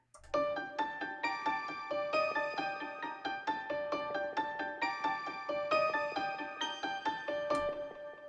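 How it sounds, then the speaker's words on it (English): A bell-like synth layered with piano plays a bright, repeating melody in steady, even note strikes, clear and continuous with no voices. "Okay, so together with the piano, they sound like this now."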